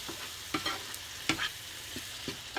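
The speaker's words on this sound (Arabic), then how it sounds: "نتقلى بهم الحوت وما نخلط كلش." Fish fries in a pan with seafood paella ingredients, giving a steady close sizzle broken by a few soft scraping stirs. No one speaks.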